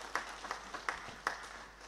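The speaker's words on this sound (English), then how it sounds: "For that, I think we must give Amakos an applaud that at least we are making progress." Applause in a provincial legislature session, heard as a burst of scattered hand clapping from several people, moderately distant and fairly quiet, with irregular individual claps.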